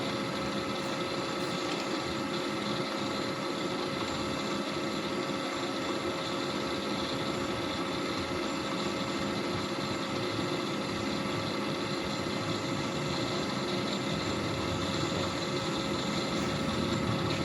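A milling machine runs steadily with a constant mechanical hum and whine while its table is fed slowly toward the cutter, holding an even level throughout.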